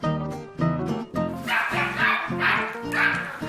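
A small dog barks in quick yips and bow-wows, several sharp barks in an uneven rhythm, close and fairly loud, with a few whimpering notes between them.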